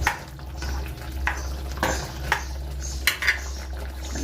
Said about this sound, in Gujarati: હવે આપણે આને આ રીતે હલાવી લઈશું।